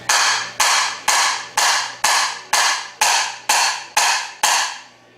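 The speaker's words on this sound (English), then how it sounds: "take a hammer and hit it squarely" Ten sharp, evenly spaced hammer strikes on a TH350 transmission shaft, each ringing briefly before the next blow, close and loud.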